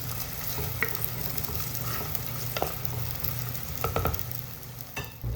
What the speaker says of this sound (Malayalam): ഇനിയിപ്പോൾ ഇത് രണ്ടും കൂടെ നന്നായിട്ടൊന്ന് ബ്രൗൺ കളറാവുന്നവരെ മൂപ്പിച്ചെടുക്കാം.